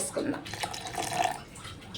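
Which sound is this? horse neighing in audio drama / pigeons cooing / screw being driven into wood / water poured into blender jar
water poured into blender jar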